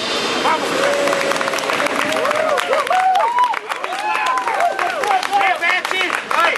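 A circus audience cheers and claps for a juggling clown, a loud sustained burst of applause mixed with shouts while an announcer's voice rings over it.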